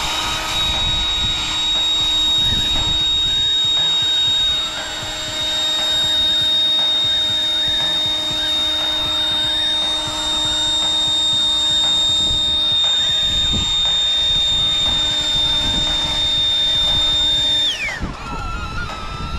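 A handheld air blower roars steadily at close range against a hovering DJI Neo mini drone, a sustained high-pitched whine with drone propeller hum underneath, winding down abruptly near the end; no one speaks.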